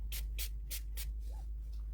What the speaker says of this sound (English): you can spray it.